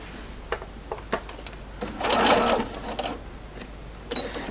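An industrial Juki sewing machine stitches quilt binding in a short burst of rapid mechanical whirring, preceded and followed by a few isolated clicks and taps, close and fairly quiet.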